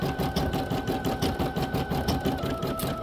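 Embroidery machine stitching a coffee cozy design over a long run, a steady rapid mechanical chatter of needle strokes with a constant motor hum, close and continuous without talk.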